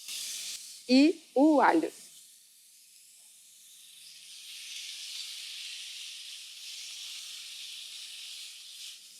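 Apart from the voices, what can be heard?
beef fillet searing in a hot pan, sizzling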